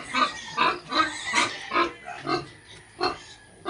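Pigs on a small backyard pig farm grunt and oink in a steady series of short, close bursts, roughly one every half second, with no one talking.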